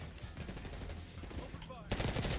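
Machine gun fire in a video game crackles as a rapid, fairly close burst of shots, growing louder toward the end under faint background game sounds.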